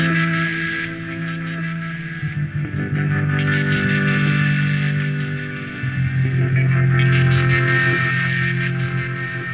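A lush, effects-heavy guitar-based pad from the UJAM Virtual Guitarist Cinedream preset Away for Far Too Long, sustained chords shifting every couple of seconds with reverb, echo and chorus, steady and loud with no talking.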